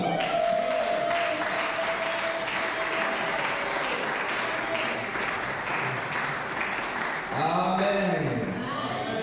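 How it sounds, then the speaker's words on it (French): A church congregation claps loudly and continuously for the girls at a sermon, with cheering voices mixed into the sustained applause. "Est-ce qu'on ne peut pas acclamer pour les filles qui sont là?"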